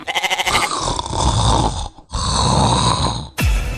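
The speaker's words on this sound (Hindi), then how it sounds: "किसी को सोने दोगे या फिर यूं ही कुंभकर्ण बने खर्राटे लेते रहोगे?" Loud, close snoring comes in long rasping, rattling breaths, separated by short gaps, with a quick fluttering snort at the very start.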